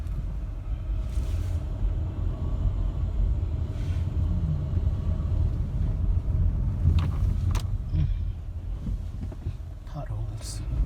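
An RV driving slowly around a campground at Lake Mead: a continuous low engine rumble and road noise with light wind buffeting and occasional small knocks, steady throughout while a person talks.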